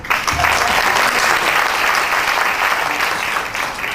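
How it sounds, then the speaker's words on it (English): An audience at a startup bootcamp claps in a loud, dense, sustained round of applause that holds steady across the whole stretch with only a slight easing toward the end. "Clap."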